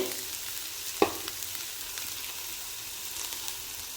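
Cooked horse gram is dropped into a pan for a Kerala thoran and stirred, giving one sharp knock followed by a steady close sizzle with faint scraping and no talking.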